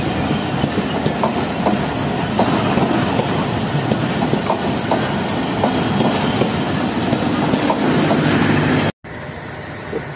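The Shah Hussain Express pulls away after a roughly five-minute stop. It rumbles and rattles close by with scattered clacks and knocks, and a brief dropout comes near the end.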